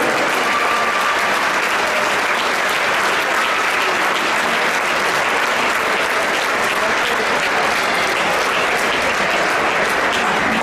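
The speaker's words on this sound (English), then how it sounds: "Please join us again in a round of applause" Sustained, dense applause from an audience in a school gym honouring a 2021 Falcon Award recipient, steady and loud throughout with a faint crowd murmur underneath.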